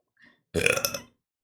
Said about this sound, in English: my burp smells of celery